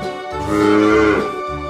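A single drawn-out cow moo, loud and close, with a rising then falling tone lasting over a second.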